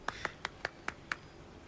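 Six light, evenly spaced claps from a character applauding in the video game Baldur's Gate, sharp and fairly faint with no talk over them.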